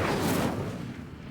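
The Incendio fire spell is cast in Hogwarts Legacy, making a single loud whooshing burst of flame that starts at full strength and fades over about a second.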